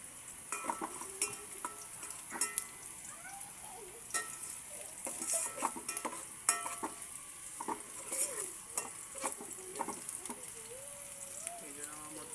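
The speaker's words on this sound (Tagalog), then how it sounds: "Tayo lang po natin mamula yung ating bawang bago natin ilagay itong sibuyas." Garlic sautés in a pan for chicken tinola, a quiet sizzle under repeated scraping and clinks of a utensil stirring against the pan, heard close.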